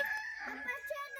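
A chicken clucks and crows faintly in the background, brief and somewhat distant, with no voices over it.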